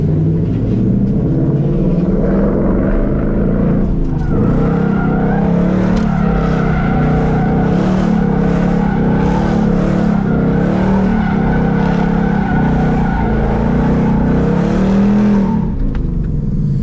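A drift car with a hydraulic handbrake slides while its engine revs hard, a loud continuous roar rising and falling in pitch with throttle changes and no talk.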